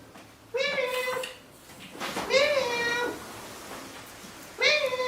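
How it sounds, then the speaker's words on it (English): A wet cat meowing at the door on a rainy day: three drawn-out, fairly loud meows spaced a couple of seconds apart, with a person talking softly between them. "Oh, cat's at the door."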